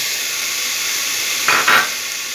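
Peas, capsicum, carrot, potato and spinach sizzle in a hot pan for a moonglet dal khichdi, a steady frying hiss with two brief louder bursts of sizzle near the end as the vegetables are stirred.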